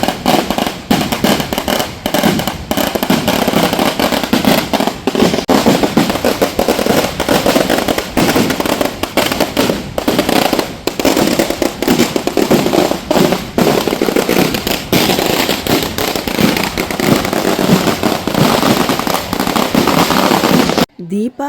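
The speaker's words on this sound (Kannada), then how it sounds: "ಪಟಾಕಿನ ಸಿಡಿಸ್ಕೊಂಡೇ ಕರ್ಕೊಂಡು ಹೋಗ್ತಾ ಇದ್ದಾರೆ" Dense, continuous barrage of firecrackers bursting loudly and close during a Rama temple festival procession with cattle, rapid overlapping cracks and pops filling the whole stretch with no pause.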